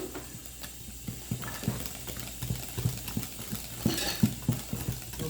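A cream mixture being whisked in a bowl, heard as quick, rhythmic tapping and scraping strokes close by, moderately quiet and steady, with no talk.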